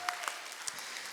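An audience claps at a church teachers' training session for summer Bible school, a steady wash of applause with a few sharp claps near the start and a faint tone underneath, no clear talk.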